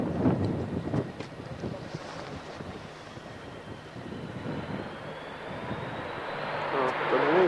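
Fixed-wing airplane landing at an air show in Gdynia, Poland, a distant engine drone with wind buffeting the microphone, swelling toward the end as people talk nearby.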